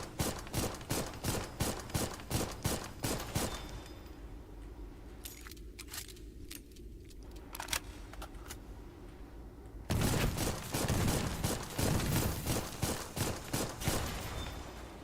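Rapid bursts of enemy gunfire crackle in the Dolls Nest mech game, loud volleys of sharp shots, then a quieter gap with scattered single hits before the barrage resumes.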